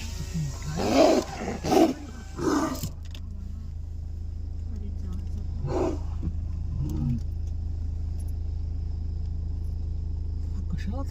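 A tiger in Tadoba National Park roars near vehicles: three loud, close roars in quick succession, then a softer growl later, over a steady engine hum, with people talking quietly.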